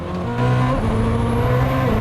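Koenigsegg Jesko hypercar engine revving loud and close, with steady harmonic drone that drops and climbs through quick gear shifts over two seconds, no voices.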